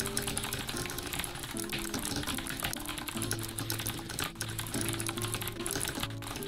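A clicky tactile mechanical keyboard clatters through a typing test with a dense, continuous stream of rapid keystrokes close by, with a low hum underneath.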